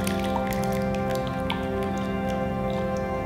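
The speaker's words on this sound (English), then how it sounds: "So you're just pouring it in" A thick macaroni and cheese mixture is poured into a baking dish, giving continuous soft wet squishes and drips up close over a steady background hum.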